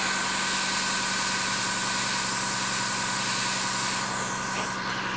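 A Grex TG3 airbrush sprays in a steady, loud, continuous hiss that hardly varies for about five seconds. The hiss thins slightly just before it ends.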